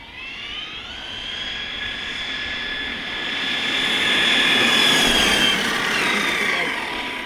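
A stock ARRMA Mojave 6S BLX RC car on 6S power screams through a speed run, its high motor whine climbing in pitch and loudness toward a peak and then easing off as it passes, with no talk over it.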